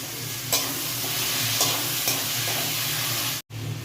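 Tomatoes with salt fry in a pan, a steady close sizzle and hiss with a few soft scraping stirs, continuous and unbroken apart from a brief cut near the end, no voices.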